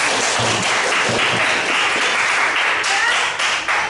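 A classroom full of students applauding, dense steady clapping that fills the whole stretch without pause.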